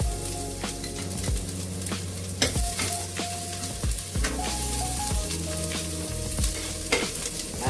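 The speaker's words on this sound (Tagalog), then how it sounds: "Lagay na rin natin ang ating sibuyas" Onion sizzles steadily in a frying pan with oil, together with garlic and ginger for crab and moonfish in coconut milk, while a spatula scrapes and taps in repeated strokes, close and loud.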